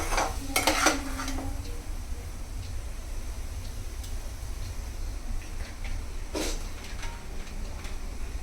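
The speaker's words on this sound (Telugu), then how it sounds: "దీనిలో ఇప్పుడు పాలు పోస్తున్నాం." Milk is poured into a sweet mixture cooking in a hot pan, with a steady sizzle and a few brief scraping, stirring clinks at the start and midway.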